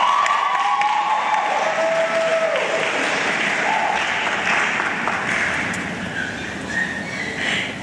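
An audience at a college commencement applauds Phi Beta Kappa graduates, sustained dense clapping from a large crowd that holds steady and then eases slightly toward the end.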